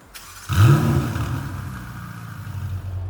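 Ferrari 488 Pista Spider fitted with a Novitec exhaust firing up with a sharp starter whir and loud bark, then settling into a strong, slowly easing idle rumble close by.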